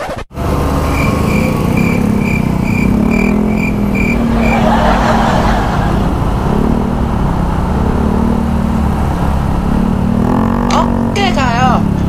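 Road traffic with motorcycles and cars, a loud continuous engine drone with revving passes and horn-like tones, heard close up from the road.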